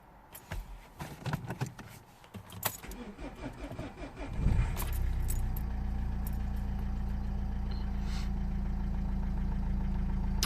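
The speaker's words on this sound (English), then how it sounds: "Gonna start the engine." A Nissan Qashqai engine cranks over after a few clicks and key rattles, catches at about four seconds, then settles into a steady, close idle hum.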